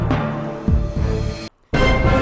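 A loud, dense electronic burst with a sweeping tone, cutting to a brief silence before resuming at full strength, the Terminator challenge sound from the PC game-show game Greed.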